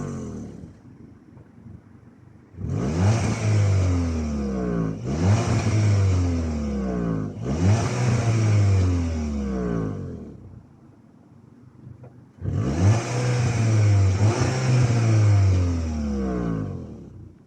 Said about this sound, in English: it definitely sounds fantastic, and with that optional extra of the sports exhaust, it sounds even better